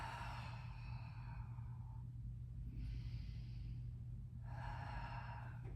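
A breath exhaled out through the mouth during a mat exercise class, a soft airy rush in the middle of the clip over steady low hum, with fainter breathy sounds before and after.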